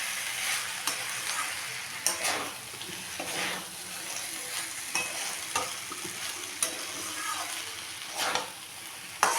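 A spatula scrapes and stirs fried cashews and raisins into a pan of fried cauliflower, with sharp repeated strokes over a continuous close sizzle.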